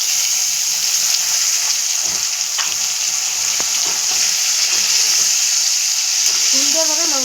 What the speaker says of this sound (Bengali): পেঁয়াজের সঙ্গে আমি মাংসটাকে ভেজে নেব